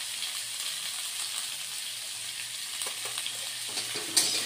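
Vegetable stalks with a half spoon of turmeric fry in a pan for an Indian potato and stalk chorchori, giving a steady, close hiss of sizzling oil with a few stirring scrapes and a brief clatter near the end, no talk.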